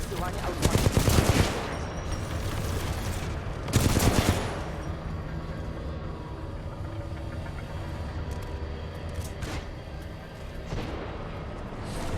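Two loud bursts of rapid gunfire at robots in Titanfall 2 stand out over a steady din of game action and mechanical noise, followed by quieter scattered shots.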